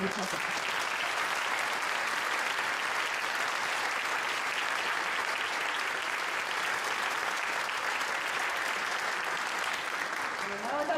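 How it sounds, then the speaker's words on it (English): A concert audience applauds their director with steady, dense clapping that holds at a loud level for the whole stretch, and scattered voices are faintly audible underneath. "please give a warm round of applause to our director"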